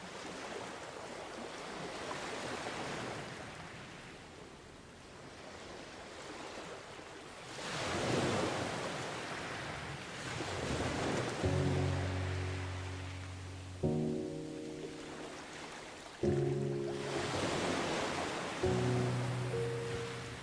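Ocean waves wash in broad surging swells, rising and falling over several seconds, while a soft synthesized music bed enters partway through.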